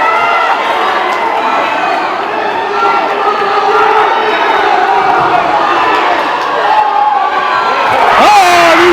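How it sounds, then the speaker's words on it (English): A crowd at a high school boys' wrestling senior night gives a loud sustained roar of cheering and shouting, with voices rising and a sharp whistle-like cry near the end. "The biggest cheer of the night because he didn't get pinned."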